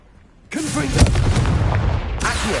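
The Confringo fire spell goes off in the Hogwarts Legacy video game as a sudden, loud fiery blast with a booming, crackling roar that sustains for about two seconds before a second burst begins.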